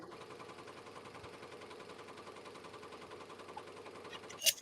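Ricoma Marquee 2001 embroidery machine sewing a zigzag stitch over applique letters, a steady, rapid mechanical stitching drone running throughout at close range, ending with a brief louder clack.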